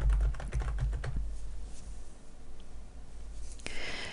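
Keys clatter in quick bursts on a computer keyboard as a macro name is typed, a dense run of close, crisp clicks at the start that thins into a few scattered taps, with no voice.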